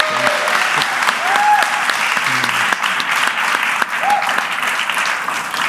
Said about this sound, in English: Can we please have a huge round of applause to Kyle for that?